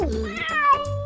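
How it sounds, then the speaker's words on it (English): A cat gives a single close, clear meow with a rising then falling pitch, alone and fairly loud. "That's a cat meowing."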